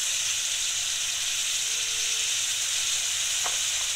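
Chicken pieces frying in hot oil with chopped tomato just added hiss in a continuous, even sizzle throughout, with no talking.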